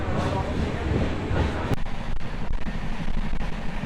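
A train pulls into Bardhaman Junction station with a loud, steady rumble and rushing roar up close, briefly thinning after a sharp click midway, with no talk heard.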